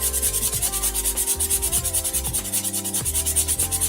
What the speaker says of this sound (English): Use about a 320 grit sandpaper to very lightly sand off those marks.